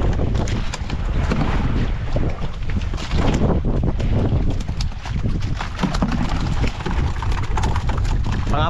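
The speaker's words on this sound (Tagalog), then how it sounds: "Ayun, medyo lumakas na yung habagat." Strong southwest monsoon wind at sea buffets the microphone on a fishing boat, a loud, constant rumbling roar with water slapping nearby.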